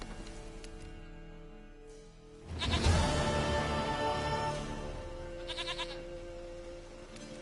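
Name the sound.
goat bleating in the video game The Witcher 3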